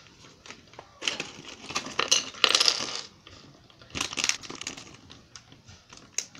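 A plastic bag of Lego pieces is torn open up close: loud crinkling, tearing bursts at about one to three seconds, a second burst near four seconds, then lighter rustling and plastic clicks.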